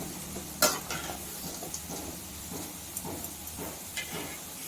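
Aloo kurkure, a crispy potato snack, fries in hot oil with a steady close sizzle and hiss, punctuated by a few sharp stirring clinks and scrapes, with no talk.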